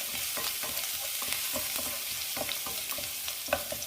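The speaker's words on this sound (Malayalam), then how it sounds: "2 ടീസ്പൂൺ സൺഫ്ലവർ ഓയിൽ ഒഴിച്ചിട്ടുണ്ട്. ഓയിൽ ചൂടായിട്ടുണ്ട്. അതിലേക്ക് 5 അല്ലി വെളുത്തുള്ളി ചതച്ചത്" Five cloves of crushed garlic fry in two teaspoons of hot sunflower oil, with a steady sizzle and occasional stirring scrapes and pops, close up with no talking.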